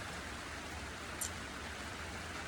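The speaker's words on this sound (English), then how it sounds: "I love the rain." Steady rain falls continuously, a soft even hiss with no breaks and no voices over it.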